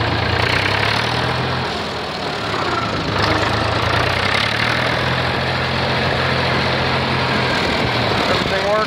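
A David Brown 885 tractor without a hood or fenders runs during a test drive. Its engine gives a loud, steady, close rumble that continues for the whole stretch.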